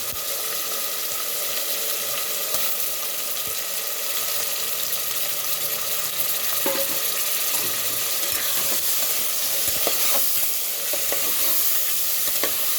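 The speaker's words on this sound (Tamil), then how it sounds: "இப்போ அலசி வச்சா கறி அதில் போட்டுக்கலாம்." Mutton pieces frying in a pot for biryani, stirred steadily with a spoon: a continuous close sizzle with scraping stir strokes and faint watery bubbling, no talk.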